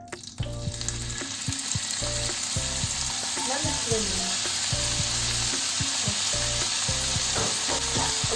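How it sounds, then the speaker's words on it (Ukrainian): Meat sizzles and crackles loudly in a hot pan, with the clatter of stirring and a brief spoken remark at the start, while frying meat for gravy. "на розігрітій сковорідці я буду обжарувати м'ясо"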